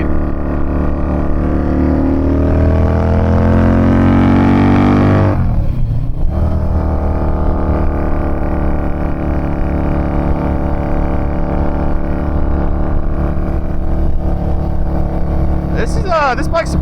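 Harley-Davidson V-Rod motorcycle, a 2006 model, accelerating on the road with a rising engine whine climbing through the revs, then a gear shift and a steady loud drone, with wind noise and someone talking over it.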